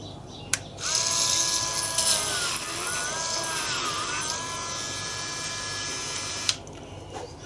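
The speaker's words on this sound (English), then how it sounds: "it keeps the drill bit straight, so it's going down the center of the rib" A power drill bores through a wooden wing rib held in a centering jig for a 1917 Sopwith Camel, a steady high whine of about six seconds with shifting pitch and a click at start and stop.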